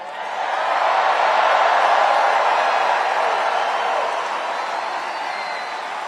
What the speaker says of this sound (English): Like this crowd. Look at this crowd.